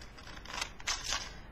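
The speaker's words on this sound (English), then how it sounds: "Next we need to cut down these lines here" Scissors snip along marked lines in paper for a papercraft basket, making a short run of close, crisp cutting strokes with a quiet pause between them.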